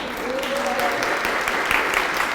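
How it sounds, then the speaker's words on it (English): An audience gives steady applause to mark a clinic's 20-year anniversary, with continuous clapping under a faint voice or tonal sound early on. "So give him a round of applause."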